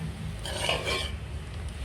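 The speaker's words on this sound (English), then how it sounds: "Once it's added, I'm going to give it a stir." Rice being stirred into a soya pepper chunk mixture in a pot over low heat, a soft continuous scraping and shuffling with a faint clink of the spoon, steady and close, no talk.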